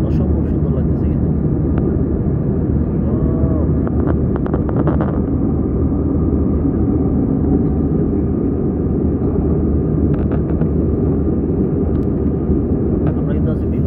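Steady, loud airplane cabin drone during a flight over Kashmir, a dense low roar that runs the whole time with a few faint clicks.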